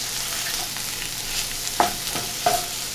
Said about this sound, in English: then we're going to add the tomato paste